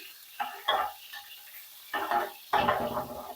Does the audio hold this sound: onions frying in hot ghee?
yes